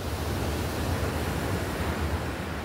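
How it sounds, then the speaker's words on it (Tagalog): Strong surf at Sumadag Beach in Maconacon, Isabela, under the northeast monsoon makes a continuous, dense roar of breaking waves, steady and loud, with some wind buffeting the microphone. "Sobrang lakas ng alon dito pagka ano, yung amihan ganon."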